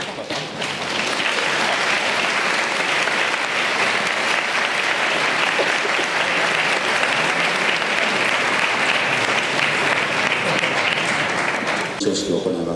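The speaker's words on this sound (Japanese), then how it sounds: "それでは2人にね、もう一度大きな拍手。" A large student audience at Nagano High School gives a big round of applause to two departing exchange students. The clapping is loud and sustained, keeping an even, dense roar for about twelve seconds before ending abruptly.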